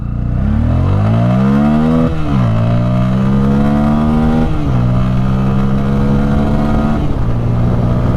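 Bajaj Pulsar N160 motorcycle with an air-cooled engine accelerating hard in first gear, revs climbing loudly and steadily in a rising whine with several sharp drops as the throttle rolls off and back on, close and continuous with no talk.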